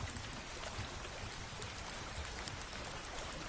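Steady cartoon rain falling at a deserted river ghat, a dense even hiss of drops with no breaks, moderately loud and continuous, with no voices.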